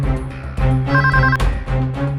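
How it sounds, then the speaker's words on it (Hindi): A telephone rings in a Hindi TV crime drama as a call is placed, with repeated bright, warbling ring bursts that sound loud and close, without speech. "बहुत देर हो गई, अब फोन करना ही पड़ेगा।"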